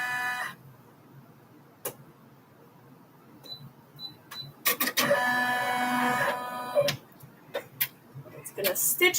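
An embroidery machine stitching, heard as scattered ticks and clicks that build into a loud, rapid mechanical rattle and clatter near the mic, with brief pauses and restarts.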